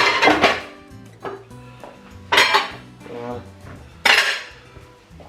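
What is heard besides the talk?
dishes and cutlery being cleared into the sink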